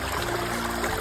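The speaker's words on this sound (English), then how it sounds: "The creek is a perfect spot to cool down and take a break from your hike." Creek water flowing along a hiking trail in the Blue Ridge Mountains, a steady close trickling and burbling rush that carries on evenly throughout.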